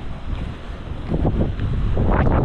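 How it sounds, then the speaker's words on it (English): Wind gusting around 20 mph buffets the microphone in rough, rising gusts, rumbling and roaring louder toward the end with no voices. "Got some 20 mile an hour gusts."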